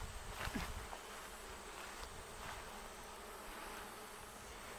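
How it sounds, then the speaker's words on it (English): A swarm of honeybees around a newly swarmed backyard hive, giving a steady, dense buzzing hum that lasts throughout, with no one talking. "And here's what our hive looks like. I mean, they're still swarming."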